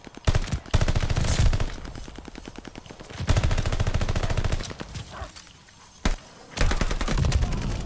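Weapon gunfire in Call of Duty Vanguard on the Gavutu map, with loud, close rapid automatic bursts in several long volleys separated by short pauses and one sharp single shot, and no talking.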